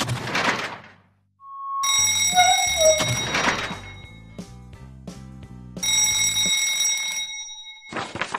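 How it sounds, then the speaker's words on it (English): Bursts of loud, high-pitched smoke alarm beeping, repeated in pulses with short pauses between, close and piercing. "Know the sound of the smoke alarm."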